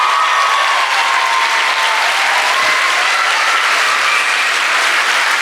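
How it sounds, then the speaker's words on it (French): An audience at a fashion school runway show and awards ceremony applauds a prize winner: loud, sustained, dense clapping from a large crowd, unbroken for over five seconds. "j'aimerais qu'on l'applaudisse aussi"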